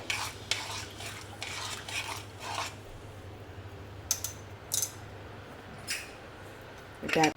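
A spoon stirs urad dal with turmeric and a spoonful of oil in a pressure cooker, giving intermittent scrapes and sharp metallic clinks against the pot over a low steady hum, with a faint voice at times.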